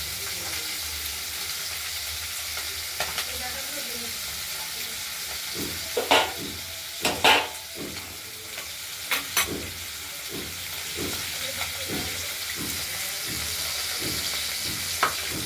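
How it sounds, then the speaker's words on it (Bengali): Pieces of shol fish fry in hot oil with a steady crackling sizzle throughout, broken by occasional sharper clinks and scrapes of stirring, close and fairly loud. "মাছগুলো ভাজা হচ্ছে।"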